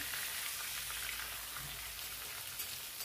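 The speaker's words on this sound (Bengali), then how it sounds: "চিকেনটা হালকা ভেজে নেব যাতে চিকেনের কাঁচা ভাবটা দূর হয়ে যায়" Chicken fries with onions in hot oil, giving a soft, steady sizzling hiss like light rain. It is faint and continuous, with no voices.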